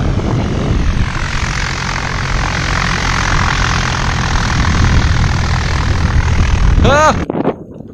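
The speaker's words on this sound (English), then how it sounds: "You're getting interrupted by planes all the time." Propeller airplane passing overhead, a loud sustained engine drone that fills the scene and then cuts off abruptly near the end.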